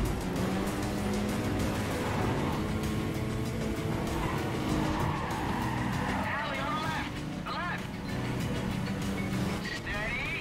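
Racing cars skidding and revving in a mobile racing video game, a dense continuous roar of engines with tyre squeals rising midway, playing steadily throughout.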